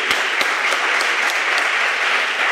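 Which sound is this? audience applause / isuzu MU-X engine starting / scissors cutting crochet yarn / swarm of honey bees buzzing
audience applause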